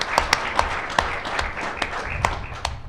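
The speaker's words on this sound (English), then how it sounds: "Let's give them a round of applause for working very hard at that." An audience at a community event gives a round of applause, with distinct hand claps ringing out at an uneven pace, fairly close and loud.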